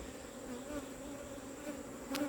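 A swarm of bees buzzes steadily and loudly close by as a hive box is pulled up, with comb built underneath, the drone holding constant through a short stretch.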